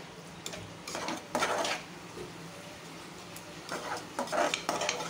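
Prawns fry in masala inside a pan, stirred with a metal spoon: soft sizzle under repeated scraping and clinking bursts of stirring, close and fairly quiet, with no one speaking.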